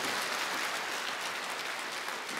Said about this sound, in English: Please give them a nice round of applause as they come.